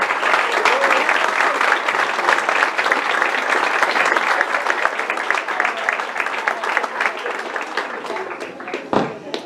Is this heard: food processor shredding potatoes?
no